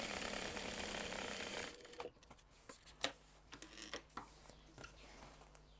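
A sewing machine bastes a fabric crossbody bag, first with a steady, faint whir of stitching, then stopping and giving way to light clicks and handling taps.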